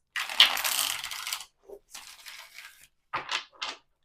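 A deck of tarot cards is shuffled close up in several quick riffling bursts, with short pauses and a soft tap between them.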